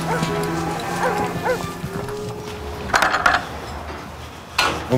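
Cattle low in a barn or farmyard on a farm in a herd of about seventy cows, with several drawn-out moos early on over steady background noise, then a couple of sharper clanks and knocks.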